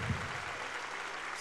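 Church congregation applauding during a worship service, a steady broadband wash of clapping filling the space, moderately loud and continuous through the short clip.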